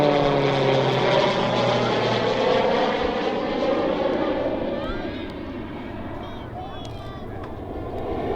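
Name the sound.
RAAF Roulette aircraft flying a max rate steep turn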